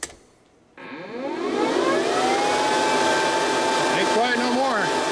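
A powerful 3.5 amp fan inside an Infidel 4 pill machine spins up after a brief quiet pause into a loud, steady whooshing roar with whining siren-like tones.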